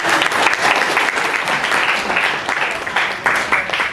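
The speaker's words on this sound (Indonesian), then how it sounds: "Tepuk tangan." A classroom of students claps together, a dense, lively burst of applause close by, steady and fairly loud with slight swells, and a few voices mixed in.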